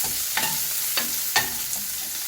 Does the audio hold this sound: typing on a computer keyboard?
no